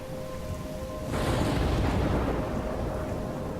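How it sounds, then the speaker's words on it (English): A thunderstorm in Life Is Strange: steady rain hiss breaks into a loud, broad rumbling roll of thunder partway through, then lingers as a heavy wash of storm noise with no voices. "I'm trapped in a storm?"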